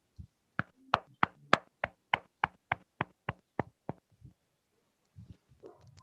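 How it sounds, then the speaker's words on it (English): Applause for a leader at a morning devotion, heard as about a dozen sharp, evenly spaced claps close to the microphone that fade out, followed by faint rustling. "Round of applause, please, to our Reverend Leo Angelo Halog."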